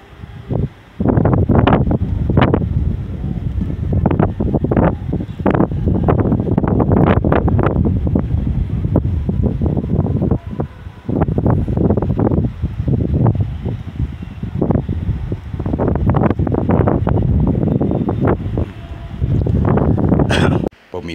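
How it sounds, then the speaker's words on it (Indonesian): Strong wind roars across a wide chili field in a loud, continuous, gusting rumble that buffets the microphone, with people talking over it throughout. "ini suaranya gemuruh sekali karena kencang sekali anginnya"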